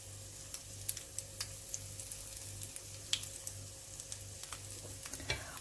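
Seafood sizzles steadily in a hot frying pan, a continuous crackling fry with frequent sharp pops and spatters, close and fairly quiet, with no talking.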